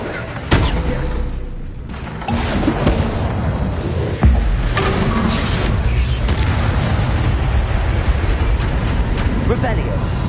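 Confringo and Bombarda explosion spells cast in Hogwarts Legacy, sharp bursts with a heavy boom around four seconds followed by sustained rumbling debris noise, loud and dense, with speech mixed in.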